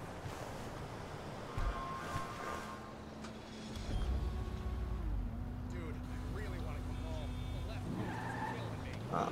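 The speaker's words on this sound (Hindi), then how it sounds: "गाड़ी पीछे ले लेता हूँ मैं" A Bugatti Chiron backs up in GTA 5, its tires skidding and squealing over a low engine rumble, with someone talking over it and ambient surf-like wash behind.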